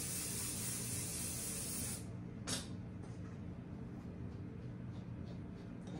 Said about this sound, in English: You want to get a little bit of your spray on the back of the head piece so that it's going to hold that stuff as well.